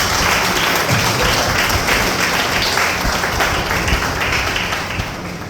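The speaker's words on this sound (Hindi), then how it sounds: "आइए प्रभु यीशु के लिए जोर से एक ताली बजाएं।" Loud, steady applause from a church congregation clapping for Jesus, a dense wash of hand claps sustained for several seconds at full volume with no talk over it.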